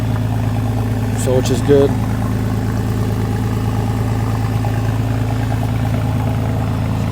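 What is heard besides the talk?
used Porsche 911 engine idling with straight exhaust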